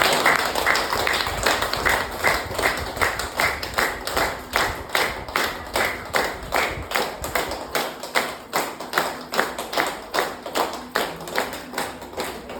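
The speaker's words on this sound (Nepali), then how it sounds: "एकचोटि हाम्रो बुवाको लागि जोडको ताली बजाउँ" An audience gives loud, steady clapping in honour of a father, at a testimony gathering for Sarwan baba, the claps coming close together and evenly for the whole stretch, with no talk over them.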